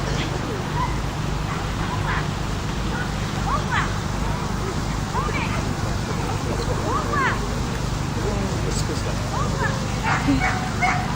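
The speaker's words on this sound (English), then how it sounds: "Give a big hand for a very brave German Shepherd dog, Ollie, and the handler, Ellen." A German Shepherd named Ollie at a fire retrieve during a dog show at Tredegar House, letting out scattered excited yips, barks and whimpers over a steady outdoor crowd din and rumble.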